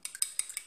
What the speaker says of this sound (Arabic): كنحاول هو الاول نضرب الزيت مع بياض البيض، خفق واحد شويه